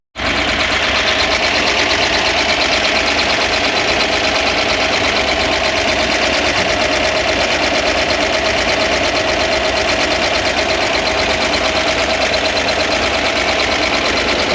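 A 1965 Corvair 500 engine, long stored and suffering heavy blow-by, runs steadily with a dense, rapid mechanical clatter and buzzing roar, loud and close, unchanging from start to finish with no voices.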